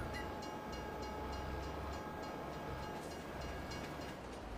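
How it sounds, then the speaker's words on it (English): A train in the Farming Simulator 22 video game rolls in at steady volume, a continuous low rumble with faint rhythmic clatter and a thin sustained tone above, with no talk over it. "Now the train's gonna come."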